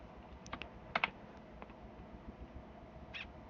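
Faint, sparse keystrokes on a computer keyboard while typing Python code, a few scattered clicks and a short double tap over a quiet room hiss.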